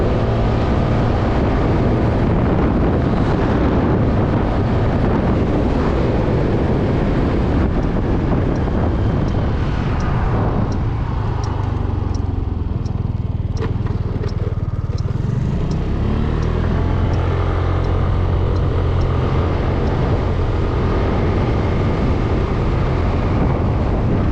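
A Suzuki Address V125 S scooter rides along a road, its engine hum mostly buried under heavy, continuous wind buffeting at the microphone, easing briefly partway through.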